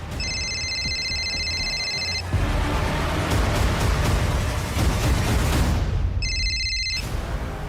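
A mobile phone rings after its number is dialed during a search near a badly burned body: bursts of an electronic ringtone at the start and again near the end, over a loud, steady rushing noise.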